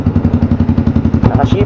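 A Yamaha Sniper 155, a liquid-cooled 155cc single-cylinder motorcycle with VVA, idles close by with a steady, rapid low throb and loud even pulses throughout.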